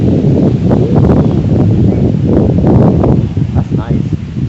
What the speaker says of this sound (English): Ah, it's breezy now.